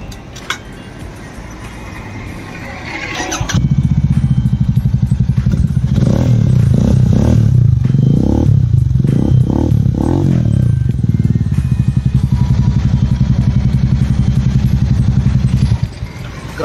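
A Royal Enfield Super Meteor 650 with an aftermarket exhaust starts with a bark, then idles loud and close with several throaty revs rising and falling before settling back down.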